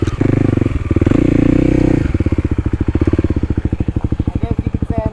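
Kawasaki KLX 300 dual sport motorcycle on a trail ride, its single-cylinder engine loud and close. It revs hard for about two seconds, then settles into a steady, rapid pulsing idle-to-cruise chug with some background clatter.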